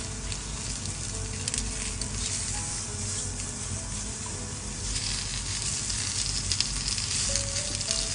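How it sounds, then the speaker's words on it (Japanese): Sausages sizzle and fry in a spare corner of a pan beside thick shiitake mushrooms, a steady dense crackle heard close up with no talking. "空いてるスペースでウインナーを焼く"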